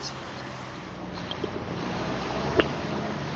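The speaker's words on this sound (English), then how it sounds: "Sometimes these trucks are really loud." A loud truck passing on a street in Gettysburg, Pennsylvania produces a broad rumble with wind noise that slowly builds to a peak near the end, with no speech over it.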